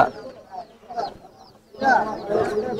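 Pigeons at a market coo and flutter close by in short bursts, mixed with nearby voices of people talking.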